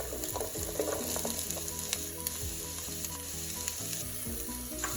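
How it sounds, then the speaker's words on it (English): Onions frying in a pan with golden-brown garlic for chicken curry give a steady, close sizzle with a few scraping and clicking sounds as they are stirred, and no one speaks. "Once the garlic turns golden brown, we're going to go ahead and add our onions to the pan."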